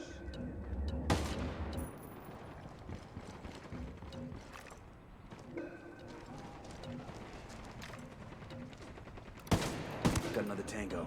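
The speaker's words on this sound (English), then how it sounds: "Unidad's firing on the cartel." Gunfire in Ghost Recon Wildlands as Unidad forces fire on the cartel: scattered bursts and single shots crackling at mid distance, with louder sharp cracks near the end over a busy background.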